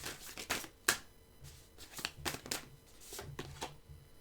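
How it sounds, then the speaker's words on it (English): A deck of tarot cards is shuffled up close and softly, in a string of quick riffling bursts and flicks with brief pauses between, and no one speaks. "Just give it a quick shuffle for Sagittarius."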